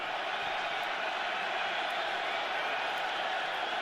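Dense, steady roar of a stadium crowd at an NFL game between the Baltimore Ravens and Buffalo Bills, a constant loud wash of voices with no clear breaks or peaks.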